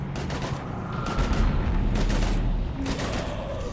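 Heavy gunfire crackles in a Mass Effect 3 battle against husks, dense overlapping bursts of shots close and loud, with a few spaced blasts and no clear talk.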